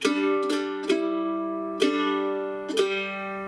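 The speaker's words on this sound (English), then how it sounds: "you could let that low string ring out through all that part if you wanted to" A mandolin plucks a few bright notes while a low string keeps droning and ringing underneath, close and clear.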